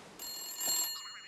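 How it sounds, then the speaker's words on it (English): Telephone ringing in a cartoon scene, one short bright electronic ring lasting about a second, clear and close with no talk over it. "I gotta phone Lucy."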